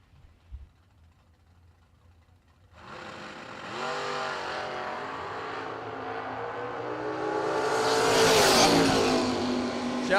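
A Colorado pickup and a 2001 Camaro from Fredericksburg, Virginia launch in a drag race after a quiet start. Engine roar surges and climbs steadily to a loud, screaming peak before easing slightly.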